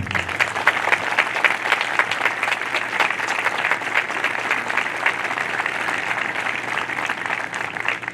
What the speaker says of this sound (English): Ladies and gentlemen, how about a round of applause for the McGinnis clan?